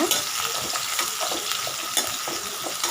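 Sliced onions frying in a pan until golden brown for egg gravy, giving a steady, dense sizzle with faint scraping from stirring throughout, close and continuous.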